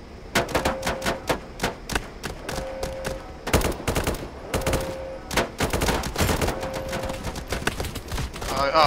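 Sharp gunshots crack out in irregular bursts and single reports during a Roblox Blackhawk Rescue Mission 5 firefight, close and loud against a steady background of game noise.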